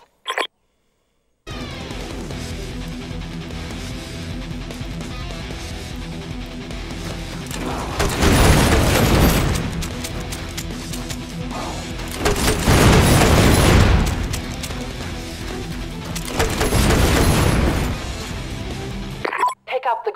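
Weapons firing together in the shooter game VALA, with three heavy bursts of booming gunfire rising out of a steady game soundscape, each swell lasting a couple of seconds.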